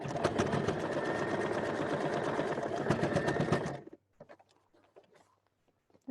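A sewing machine stitches steadily and loudly over pinned fabric for nearly four seconds, then stops, leaving faint handling clicks and small taps before a brief noise at the end.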